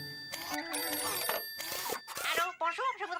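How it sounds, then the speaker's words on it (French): A cartoon telephone rings in bright repeated electronic bursts, close and loud, while animated characters talk and exclaim over it. "Téléphone!"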